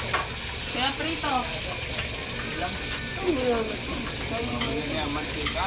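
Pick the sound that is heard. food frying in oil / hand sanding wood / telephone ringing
food frying in oil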